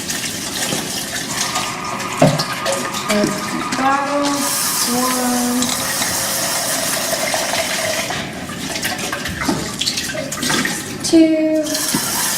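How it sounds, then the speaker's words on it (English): Water is run into a PET 500 sample bottle and sloshed out three times in a triple rinse, giving repeated gurgling fills and pours, with a voice counting over the splashing. "So we're going to do the triple rinse."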